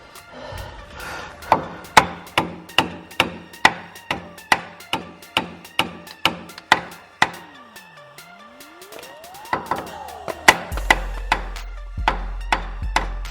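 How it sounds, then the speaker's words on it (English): Repeated sharp metallic hammer blows on a stuck rear strut of a BMW, close and loud, struck in a steady rhythm of roughly two per second with a low rumble near the end. "I'm gonna hammer right here inside that hole"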